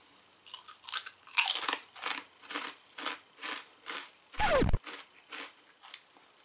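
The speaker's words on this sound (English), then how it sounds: "These should be pretty crunchy because they're kettle cooked." Cape Cod BBQ ranch waffle-cut kettle-cooked potato chips crunched and chewed close up, a sharp loud bite followed by a steady series of rhythmic crisp chews and a brief louder rustle near the end.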